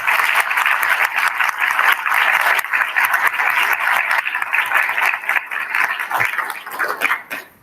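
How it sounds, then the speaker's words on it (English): A room of staff at a university all-staff council meeting breaks into a round of applause, sustained dense clapping at close range that thins and tapers toward the end. "We should give them a round of applause."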